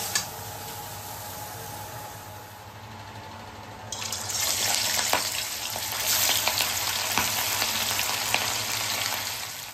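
Fish frying in oil in a kadai gives a steady sizzle that grows louder and fuller partway through, with faint stirring and clinks, in a home kitchen with no talk.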